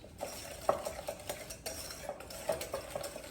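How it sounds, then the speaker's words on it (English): A spatula mixing an egg into blondie batter in a bowl, soft intermittent scraping and light taps, quiet and close with no talking. "with our spatula, I'm just going to mix all of these together until they're nice and creamed."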